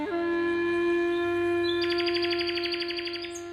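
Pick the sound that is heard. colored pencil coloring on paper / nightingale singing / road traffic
nightingale singing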